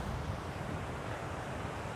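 Water from Sissu Waterfall near Manali in Lahaul Valley crashing down onto rocks, a steady, dense roar that holds loud and unbroken throughout, with no voices.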